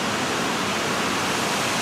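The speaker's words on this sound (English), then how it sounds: "you can see this beautiful little waterfall here in the village" A small waterfall on the Quechee River in a Vermont village pours with a steady, dense hiss of rushing water on a chilly autumn day, with no voices.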